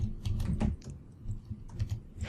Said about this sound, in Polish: Teraz będzie słychać jak klikam w te klawisze